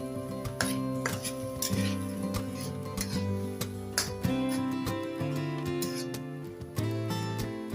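Sugar syrup is stir-fried in a pan over medium heat for candied shrimp. A utensil repeatedly clinks and scrapes against the metal, with a steady tonal hum running underneath.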